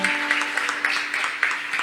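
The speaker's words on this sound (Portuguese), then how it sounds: "Você pode glorificar com as suas palmas." A church congregation claps along in a steady rhythmic pattern, close and lively, with a sustained tone and faint voices underneath.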